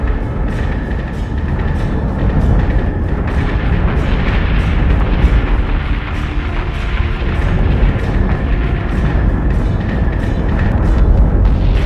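Weapons fire and explosions in the Battlestar Galactica: Deadlock space combat game, a dense, continuous barrage of booms and rapid cannon bursts that stays loud throughout.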